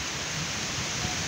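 Heavy rain driven by strong wind in Naic, a dense, steady roar of broadband noise that holds loud and unbroken throughout, with no voices.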